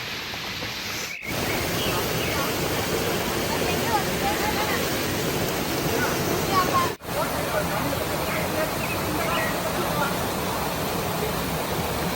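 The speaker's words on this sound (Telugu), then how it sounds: "బుర్రయ్యపాళ్ళం వాటర్ ఫాల్స్ జలపాతం చూడండి క్లోజప్లో చూపించాను" A waterfall tumbling over rocks roars in a continuous, dense rush of falling water, steady and full throughout, with faint voices buried in the noise.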